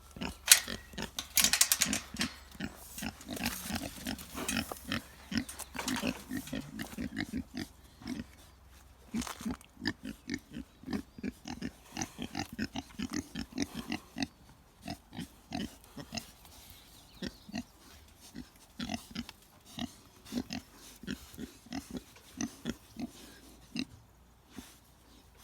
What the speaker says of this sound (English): That pig right there is immediately going.